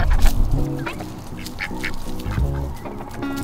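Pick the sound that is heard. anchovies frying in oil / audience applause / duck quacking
duck quacking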